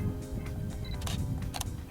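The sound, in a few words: Canon EOS 650D camera shutter release taking a still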